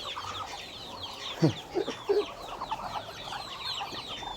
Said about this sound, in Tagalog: Yan mga sisiw, mga 12 yan.